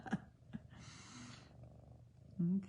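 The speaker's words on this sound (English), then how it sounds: "she is just purring up a storm" A house cat purrs steadily and close, a soft rumbling drone running through the clip, with brief voice sounds at the start and end.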